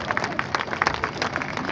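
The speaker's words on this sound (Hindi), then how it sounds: "तालियां मिलकर बजाओ" An audience at a Holi kavi sammelan (poetry gathering) in Bareilly breaks into applause: a dense, steady patter of many hands clapping close by, with scattered louder claps and crowd murmur throughout.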